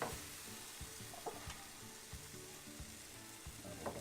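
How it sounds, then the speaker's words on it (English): A spoon stirs flour into a pork chop sauce in a frying pan over high heat, with a steady sizzle and repeated scraping knocks against the pan bottom, close and alone. "Give it a good stir to get that flour and the thickness of the sauce going."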